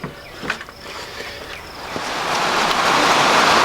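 Steady rain falls outdoors at a shooting range, building from a thinner patter into a dense, continuous hiss over the last half, with a few faint knocks early on.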